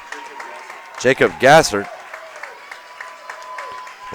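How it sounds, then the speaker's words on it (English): At a LaGrange vs. Salisbury baseball game, a crowd applauds steadily while a player leaves the field. An announcer's voice briefly rises over the scattered clapping. "Petros will get a round of applause coming off the field"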